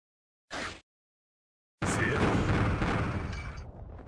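A defeated boss blows up in Mega Man Zero: one brief burst, then after a pause a loud, sustained crackling explosion that rolls on for a couple of seconds before thinning out.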